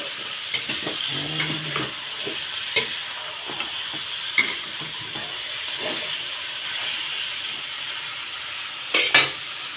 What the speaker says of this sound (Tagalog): Gisa-gisa muna hanggang sa para medyo maprito-prito siya.